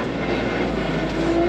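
A tractor engine drones steadily and heavily while pushing a big branch off a damaged dirt road, with a constant low rumble and no talk.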